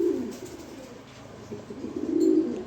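A breeding pair of pigeons cooing close by, low soft coos swelling at the start and again near the end, with no talk.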